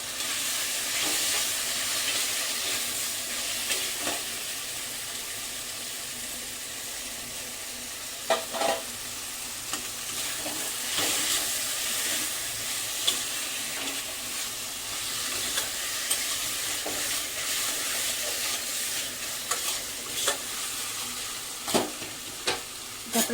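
Elephant foot yam stalks frying with black mustard paste in a pan, a steady close sizzle with intermittent stirring scrapes and light clinks of a spatula, no voices.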